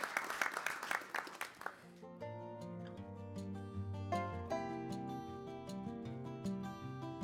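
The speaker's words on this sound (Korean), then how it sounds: "큰 박수로 맞아주시기 바랍니다" A brief burst of audience applause greets a panel moderator at an economic forum, lasting about two seconds before giving way to soft sustained music; the whole passage is faint.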